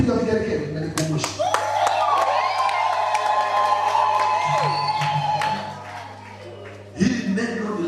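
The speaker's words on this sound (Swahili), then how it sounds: "Lakini hebu piga vigelegele na nikumbushe" A church congregation cheers, with high sustained ululation over clapping and crowd shouts, a loud burst returning near the end amid voices.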